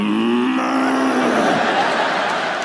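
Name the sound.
comedian imitating a cow mooing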